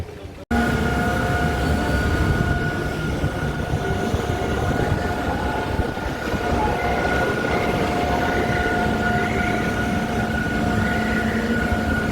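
The Infusion roller coaster at Blackpool Pleasure Beach runs with a steady rumbling roll and a sustained metallic wheel whine. It starts abruptly and continues for about twelve seconds without talk.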